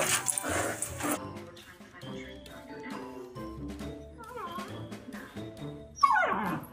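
A dog whimpers and makes soft, high yips close by in short bursts, ending with a louder yelp.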